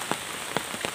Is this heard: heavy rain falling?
yes